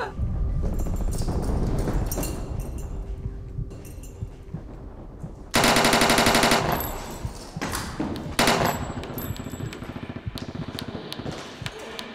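Bursts of gunfire from a feature film, a few sharp reports followed by a loud sustained rattle of rapid shots, then further scattered cracks amid busy background sound.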